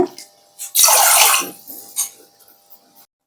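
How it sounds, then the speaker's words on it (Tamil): Water poured into a cooking vessel for a henna hair-dye decoction, a short splashing burst in the middle followed by a few light clinks and drips, close and isolated against quiet. "ஒரு பாத்திரம் எடுத்துட்டு ரெண்டு டம்ளர் தண்ணி சேர்த்துக்கோங்க"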